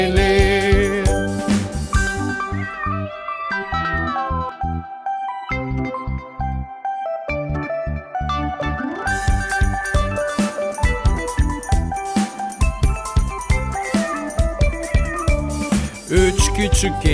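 A singing voice imitates cat meows over bouncy, jingly music, the mewing calls repeating through the tune.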